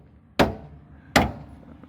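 Two sharp, loud hammer blows ring out on a car part during work on a daily driver being lowered, spaced under a second apart with quiet between.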